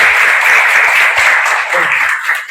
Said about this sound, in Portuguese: eu gostaria de pedir carinhosamente aos senhores uma salva de palmas para ele